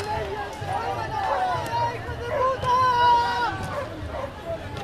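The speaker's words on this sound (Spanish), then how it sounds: "Mira los perros, son bacanos." Several dogs bark and yip in short bursts amid a student protest march crowd's chatter and footsteps, moderately close.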